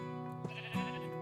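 A sheep bleats in Minecraft Skyblock, two short, clear nasal calls in quick succession within about a second, heard alone.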